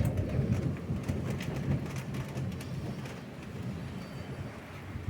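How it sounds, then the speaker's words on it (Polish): Heavy rain pours down in a thick, steady roar, with a deep rumbling undertone and no voices. "U nas urwanie chmury dzisiaj."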